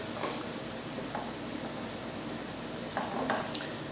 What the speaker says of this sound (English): You're going to stir together your mixture.